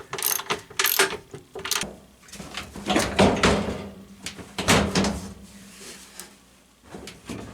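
Socket ratchet, 14mm socket, tightening the axle nut on a Tromm/LG clothes dryer, bursts of rapid clicking ratchet strokes in an uneven rhythm, close and fairly loud, with brief pauses between strokes.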